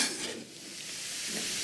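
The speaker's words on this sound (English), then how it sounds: "So let's go ahead and get these sauteing." Small-chopped vegetables for a vegan lasagna sauté in a pan, making a continuous close sizzle with a faint scraping stir, with no voices.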